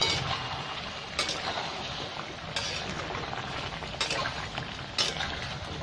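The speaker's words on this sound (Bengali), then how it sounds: "টমেটো দিয়ে একটু ঢাকা দিয়েছিলাম আমি, এবার একটু নেড়ে দেবো" Tomatoes frying in a karhai for karhai chicken are stirred, giving a steady close sizzle with a few soft spoon scrapes and clinks against the pan at intervals.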